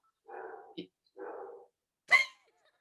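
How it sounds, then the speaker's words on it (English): A dog, a Labradoodle indoors, gives a few short separate barks and yips at someone walking past, close and moderately loud with quiet gaps between them. "Oh yeah, there's a dog walking by."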